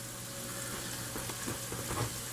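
Onions frying in a pan, a quiet steady sizzle with light crackling pops scattered across it and a faint low hum underneath, no voices.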